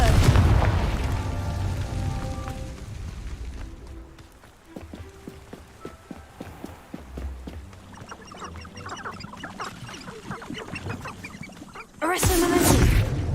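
Spell blasts in the Hogwarts Legacy video game, with a heavy booming burst at the start and another near the end, and scattered game effects and clatter in between.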